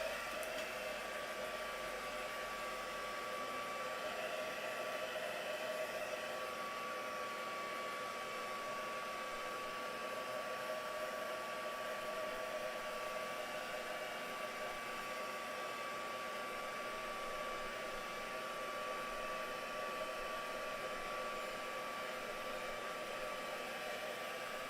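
A heat dryer blows a steady, even whoosh with a faint whine as it dries ink on a mixed media piece, constant and unbroken throughout, fairly quiet and with no talking.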